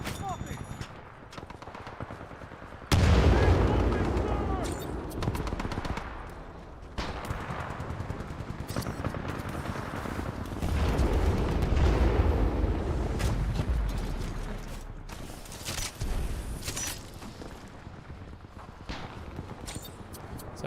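Gunfire aimed at a Titan in Titanfall 2, dense bursts of shooting and heavy impacts spread through the clip, loud and close, with a voice talking over parts of it.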